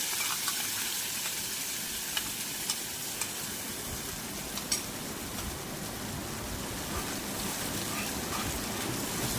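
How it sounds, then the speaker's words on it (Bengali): Bay leaf pieces and ground spice paste fry in hot oil while being stirred, producing a continuous close sizzle and hiss with faint scraping, and no voices. "তেল গরম হয়ে গেলে এতে দিয়ে দেব তেজপাতার টুকরো পেস্ট করে রাখা মশলা এর মধ্যে আমি দিয়ে নেড়ে চেড়ে নেবো"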